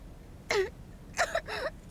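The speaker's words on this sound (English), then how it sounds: "you're coughing up blood" A character in an anime episode gives short, harsh throat-clearing coughs, one alone and then a quick cluster, strained and close, against near silence.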